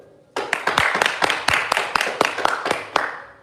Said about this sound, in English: Let's all give a huge round of applause for the decorating team who has worked tirelessly putting the stage together.